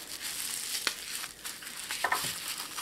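Packing tape pulled and pressed across the top of a cardboard box of fertile hatching eggs, a steady crinkling, rasping tear with a few sharper snaps, close and fairly quiet, no talking.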